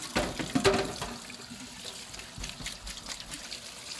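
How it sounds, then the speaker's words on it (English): Running tap water splashes while mandarin orange segments are rinsed, a soft steady trickle with a louder burst near the start, close by and fairly quiet. "Go ahead and rinse that off again."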